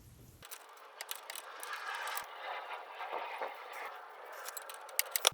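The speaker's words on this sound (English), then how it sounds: "now I can start working this off with the crescent wrench to get this hose off" A crescent wrench works loose a power steering hose fitting on a 1994 Dodge Ram, giving soft metallic clicks and scrapes close by with a few sharper ticks near the end.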